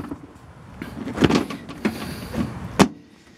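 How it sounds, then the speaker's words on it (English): Doors on a Kawasaki Mule Pro FXT EPS Camo utility vehicle open and close in a few soft mechanical clunks and latch clicks, close by and with no talk. "Nice, easy open doors."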